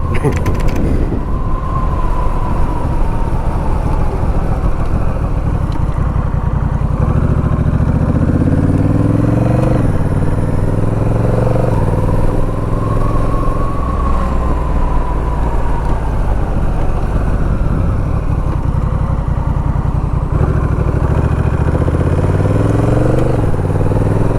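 A motorcycle on a commute toward the Memorial Park area, with steady engine and road noise throughout and the pitch rising and falling as it shifts through gears.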